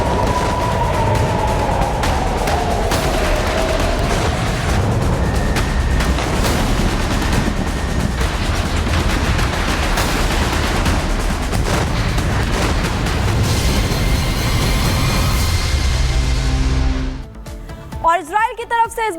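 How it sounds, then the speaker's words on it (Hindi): Hezbollah rocket fire on Israel in news footage: dense, continuous bursts of booms and rapid gunfire-like cracks fill most of the stretch, loud and chaotic, before cutting out near the end. "हिजबुल्लाह ने 90 से ज्यादा रॉकेट्स दागे हैं।"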